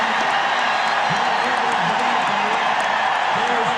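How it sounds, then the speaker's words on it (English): Redskins fans roaring at the Super Bowl XVII Dolphins vs. Redskins game, a dense constant stadium crowd noise that fills the background with no distinct peaks, while an announcer talks over it. "It's a Redskin crowd"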